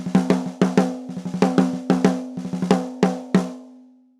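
A snare drum close-miked with a Shure SM57 about an inch off the rim plays a quick pattern of crisp, punchy hits with rattly snare buzz, some soft ghost strokes between louder accents, ringing out at the end.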